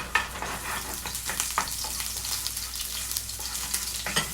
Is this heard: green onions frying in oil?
yes